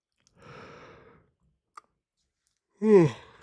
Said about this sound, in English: second yawn of the night